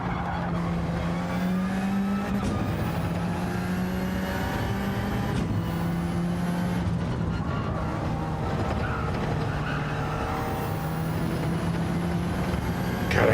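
A race car engine in Gran Turismo 7 roars steadily and loud throughout, its pitch climbing and dropping through repeated gear shifts and revs, with faint tyre squeal and no talk.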